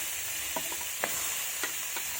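Pumpkin, whole garlic and spring onion sizzle in a hot wok with a steady close hiss, broken by several short scraping stirs of a spatula, and no voices.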